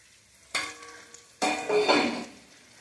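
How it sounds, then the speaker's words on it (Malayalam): Small onions sautéing in a pan, two sudden bursts of loud hissing sizzle, the second longer and swelling with stirring before fading, with no voices. "കൊച്ചുള്ളി നല്ലവണ്ണം വഴന്ന് വരണം"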